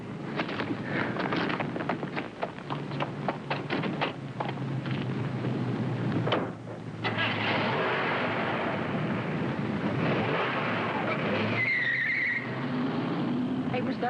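A car pulls away in a 1960s television crime drama: a steady, loud engine roar rumbles for the whole stretch, with people talking over it.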